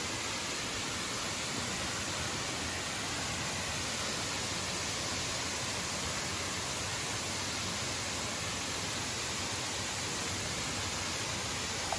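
Waterfall at Cascadas de Don Juan, El Salvador, a steady, broadband rushing roar of falling water, close and constant for the whole stretch with no other sounds.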